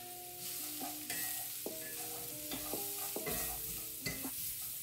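Flour being stirred into onions frying in a pan as a thickener, with a soft continuous sizzle under a run of ringing metallic taps and scrapes of the utensil against the pot, fairly quiet and close.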